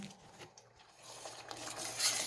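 A spoon stirs Jamaican cornmeal porridge in a pot on the stove, giving soft intermittent scraping and clinking against the pot that grows a little busier toward the end, quiet and close.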